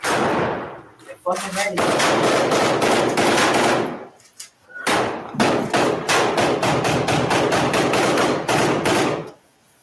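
Gunfire rattles in long, loud, rapid bursts during a firefight, with a brief pause between volleys. The shots sound close and harsh, with a voice briefly heard among them.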